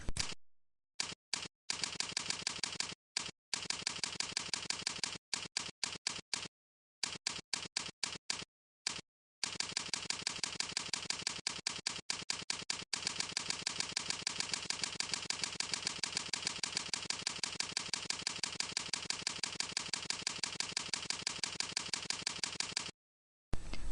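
Quick, dense clicking of keys on a computer keyboard, with rapid bursts broken by short pauses, then a long unbroken run of typing, faint and close.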